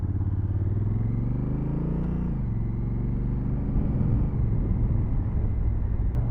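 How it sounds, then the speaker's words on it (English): A Honda CRF1000 Africa Twin motorcycle with stock exhaust drones steadily at freeway cruising speed with a deep exhaust rumble and wind noise, rising briefly in pitch as it shifts, loud and continuous. "The sound is really nice, even if it's the stock exhaust."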